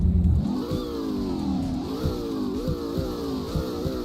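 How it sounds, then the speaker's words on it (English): A car engine in the Roblox game Greenville Wisconsin revving repeatedly, its pitch rising and falling in several close, moderately loud surges over a steady running drone. "let's rev it"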